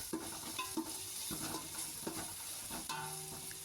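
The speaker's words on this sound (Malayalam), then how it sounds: "ചെറിയ ഉള്ളി ഇട്ടതിന് ശേഷം നല്ലപോലെ ഇളക്കുക" Crushed shallots frying in a pot for chicken dum biryani, stirred with a spoon: soft scraping strokes and occasional metal clinks over a continuous sizzle, close and moderately quiet, no talking.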